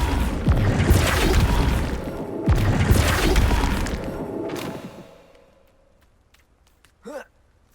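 A Flipendo spell is cast in Hogwarts Legacy on Xbox Series X, giving heavy thudding, crashing impacts and whooshes for about five seconds before fading to near quiet, with a brief voice-like burst near the end.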